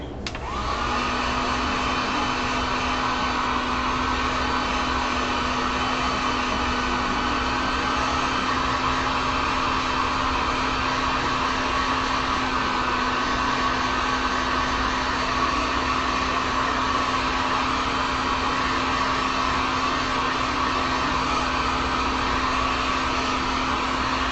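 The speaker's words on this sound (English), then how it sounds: "Let me throw the heat gun here." A heat gun blows hot air onto a painted wood sign, a steady, unbroken whooshing hum with a constant low whine that starts abruptly and holds evenly for the full length, with no voices.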